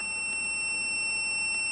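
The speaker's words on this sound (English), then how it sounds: "in case while you were in there messing around, you forgot to close the lid, another little attention to detail thing that we love is there's an alarm" Continuous high-pitched electronic alarm tone from an Anker EverFrost powered cooler warning that its lid is open, sustained and steady with faint background noise beneath.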